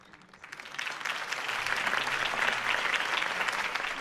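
Crowd applause following a campaign rally speech in a Batman Telltale video game, swelling from quiet into sustained loud clapping with no talk over it.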